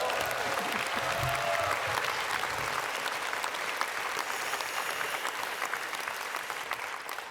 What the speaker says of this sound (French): Nous pouvons l'applaudir.